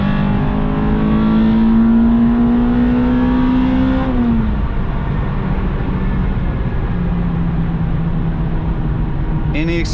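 Honda RSX Type S with a K20Z1 engine, revs climbing steadily into VTEC with a rising whine, then a sharp drop at the shift before pulling again from inside the cabin.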